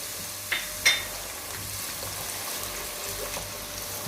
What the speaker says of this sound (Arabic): هذا نحمر البصل نخلوه لين يدبل ويعطي نكهته